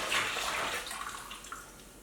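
Homemade ginger beer liquid poured into a big pan, giving a steady, fairly loud splashing wash of liquid that fades slightly toward the end, with no voices.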